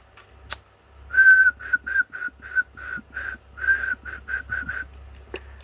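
A person whistles a tune into a ham radio transmitter microphone, a run of short, clear whistled notes with brief pauses, heard close over a low steady hum with a faint click at each end.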